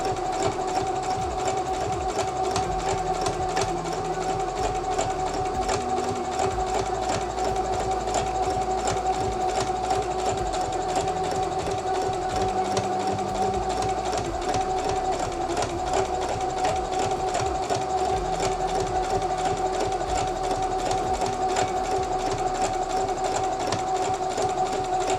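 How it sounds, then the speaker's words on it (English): A sewing machine stitches a long seam along the open edge of a cloth face mask, a steady fast mechanical whir with rapid needle clatter, close and continuous, with a low motor hum beneath. "So we're sewing the entire length a 1/4 inch away from that open edge."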